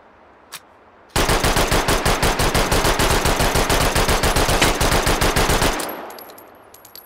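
A Sten submachine gun in the VR shooting game H3VR fires one long, loud, close burst of rapid evenly spaced shots lasting several seconds, preceded by a single small click and followed by a fading echo.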